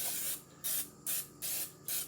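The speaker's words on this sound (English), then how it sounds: "spray a little oil" Four short bursts of cooking oil spray onto a meatloaf pan, an aerosol hissing in quick, even pulses, close and fairly quiet with brief pauses between them.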